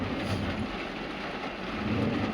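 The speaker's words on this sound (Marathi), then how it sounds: "तर आता थोडा पाऊस चालू आहे" Rain falls on and around a parked car during a stop on the way to a temple, a soft, even wash of steady noise with no voices.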